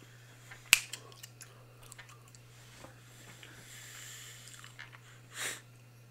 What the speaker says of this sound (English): We doing some gum chewing.